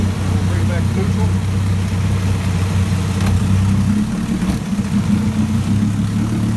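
A 1965 Evinrude 9.5HP outboard motor in almost new condition idles steadily in neutral after a cold start, a loud, even low drone with a brief dip midway, while someone talks over it.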